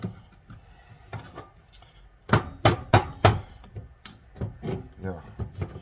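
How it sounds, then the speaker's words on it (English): A hammer knocks rocks and debris out of front-end parts from a 1972 Plymouth Valiant during an overhaul, a quick run of sharp metallic raps followed by scattered lighter taps and scraping, close and fairly loud. "I'm using a hammer to get rocks and debris"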